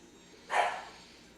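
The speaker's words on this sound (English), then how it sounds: "my dogs start barking." A single short, sharp dog bark rises out of near silence and fades quickly, heard at moderate distance.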